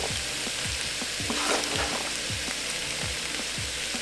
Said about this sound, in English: Then you want to saute those.